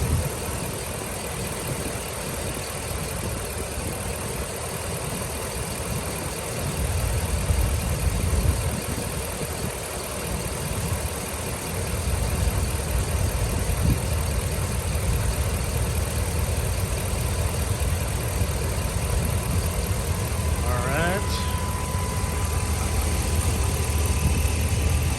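A 2014 Ram 1500 pickup's 5.7L HEMI V8 with a Rough Country exhaust holds a steady low idle rumble throughout, a smooth continuous drone with a brief squeak or chirp near the end.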